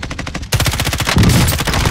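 Rapid automatic gunfire from the video game Call of Duty: Warzone, a loud, dense burst of shots that starts abruptly and keeps rattling close up without pause.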